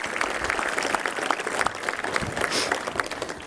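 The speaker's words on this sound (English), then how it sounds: "give Mike a round of applause" Applause from the audience at a fire and lifeguard appreciation dinner, honoring an award recipient: a steady, dense wash of many hands clapping that holds at an even level for a few seconds.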